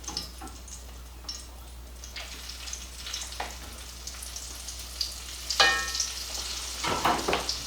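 Country fried steak pieces sizzle steadily in a hot frying pan, a continuous crackling fry punctuated by louder pops and spatters near the end, with no talking.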